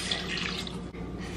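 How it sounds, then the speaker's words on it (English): Water pours steadily into a cooking pot for beef soup, a continuous close splashing rush with a brief dip near the end, heard alone. "I'm going to add like 3 to 4 cups of water."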